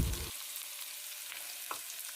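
Chopped onions frying in sesame oil with mustard seeds for a tomato-onion thokku, a steady close hiss of sizzling with a brief clatter at the start and a faint click later.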